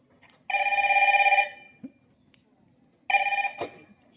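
A telephone rings indoors during a two-act village stage play, two loud trilling bursts of electronic ringing close by, separated by a short pause with faint background noise.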